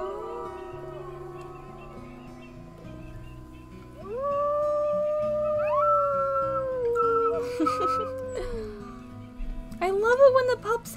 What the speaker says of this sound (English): I love it when the pups howl.